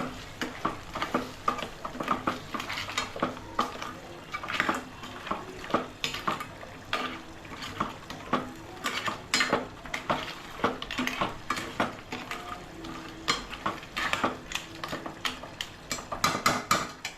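Prawns are stirred with Malvani masala in a pan, giving a soft sizzle under a run of spoon scrapes and metal clinks against the pan. The stirring is close and comes in uneven, repeated strokes with no talk.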